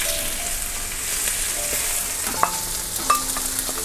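Cooking oil sizzles steadily in a frying pan, a loud, even hiss that stays close to the listener. A few faint clinks and taps sound over the sizzle.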